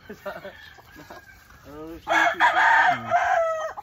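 Chickens on a gamefowl farm: roosters crow loudly and close with drawn-out calls, mixed with clucking and other fowl sounds, and a voice is faintly audible in the background.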